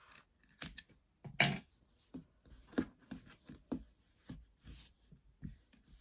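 Scissors snip crochet yarn at a left-handed work table, giving a few short, sharp cuts spaced out between quieter rustles of handling, close and fairly soft, with no talking.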